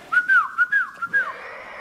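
Someone whistles a short melodic tune to a horse, about six clear, close warbling notes with brief rises and falls, alone against a quiet background.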